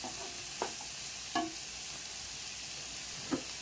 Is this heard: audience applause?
no